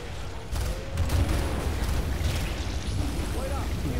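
Weapons discharge in Killing Floor co-op play, with a Firebug character firing everything at once. It sounds like a dense, loud, continuous barrage of booming blasts and crackling bursts, with a brief voice near the start.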